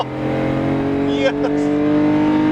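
A Volkswagen Golf VR6 engine pulls hard in a steady, continuous drone with strong engine harmonics that hold and rise slightly through the clip, loud and close from inside the car.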